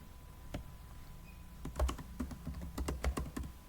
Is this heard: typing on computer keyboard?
yes